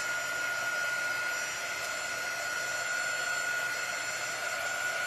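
A hair dryer blows steadily at close range, a constant whooshing hum with a faint high whine and no pauses.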